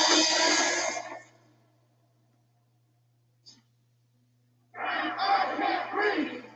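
Protest crowd yelling loudly in bursts as police fire tear gas, a roaring wave of shouts at the start, near silence with a brief faint pop in the middle, then the shouting surges back.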